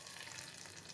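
Spice paste for paneer makhanwala frying in hot oil, a steady close sizzle and crackle running evenly through the whole moment with no talk over it.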